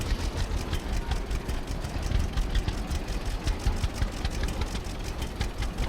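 Tractor engine idling in the Farmers Dynasty farming video game, a steady low rumbling drone with a faint regular knock, continuous at moderate level with no talk over it.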